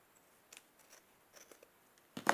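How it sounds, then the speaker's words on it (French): A few faint, quiet snips and crinkles close by as scissors cut laminated paper, ending in a sharper, louder cut, with no voices. "je vais couper au ciseau, ça sera mieux"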